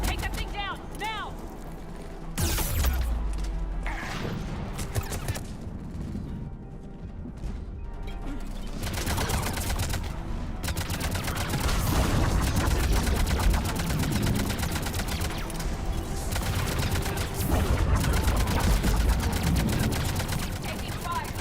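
Rapid bursts of video game gunfire and crashing impacts in Mass Effect Legendary Edition, loud and dense for most of the stretch, with voices talking amid the shooting.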